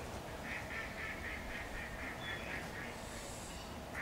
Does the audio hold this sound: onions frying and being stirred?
no